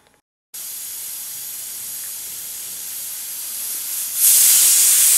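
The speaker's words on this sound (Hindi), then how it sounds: "देखिए इसका स्टीम निकल गया है" Punjabi dal chana in a pressure cooker, a sudden loud, steady jet of steam hissing after a brief silence, swelling louder and brighter near the end.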